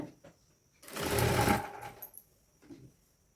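Sewing machine stitching lace onto a blouse, a single short whirring run of stitches, close but fairly quiet, with faint handling noises before and after.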